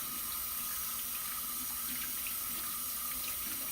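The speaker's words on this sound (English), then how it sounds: "you're going to leave your water running" Tap water runs steadily into a sink while hands are rinsed clean after soaping, a constant close splashing hiss with no voices.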